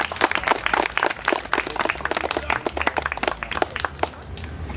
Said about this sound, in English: to the elders, let's give them a round of applause